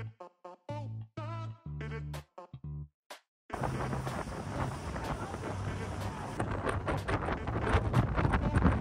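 A boat cruises on a Norwegian fjord, with a few brief tonal, voice-like sounds at first, then a steady rush of engine and wind buffeting against the microphone that builds slightly toward the end.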